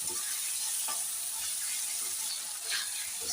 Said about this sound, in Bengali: মাছগুলো দিয়ে হালকা একটু কষিয়ে নেব